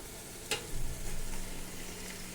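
Mushrooms stirred in a pot of Healux cookware for mushroom biryani: a quiet, soft sizzle with a sharp clink near the start, then muffled stirring scrapes.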